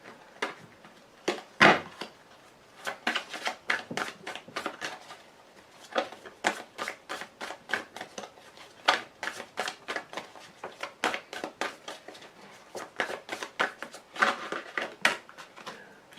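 Cards are shuffled and laid out for a card reading, giving a quick run of crisp, dry snaps and flicks in uneven bursts, close and clear with no talking.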